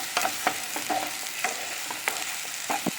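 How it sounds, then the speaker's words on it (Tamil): Chilli and coriander powders sautéing in oil for a fish kuzhambu, a steady soft sizzle broken by repeated sharp spatula scrapes against the pan, close and fairly loud, no talk. "இதே நல்லா எண்ணெயில் வதங்கணும்"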